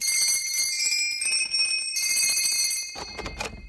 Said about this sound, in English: Rang the bell.